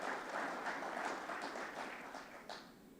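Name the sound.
audience applause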